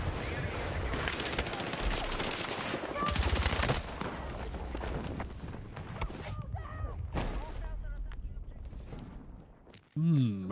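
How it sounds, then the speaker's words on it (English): Battlefield 6 gunfire with shotgun blasts, a loud close barrage dense at first, then scattered separate shots and a final heavy blast, with a voice speaking over it. "A shotgun again, I see."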